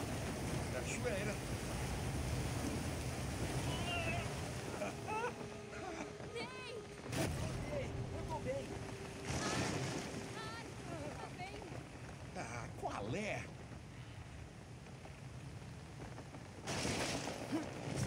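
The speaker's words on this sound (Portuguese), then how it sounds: "Cachoeira!" A waterfall in the Uncharted 4 video game gives a steady, broad rush of falling water that fills the whole stretch, with game characters talking over it and brief louder surges.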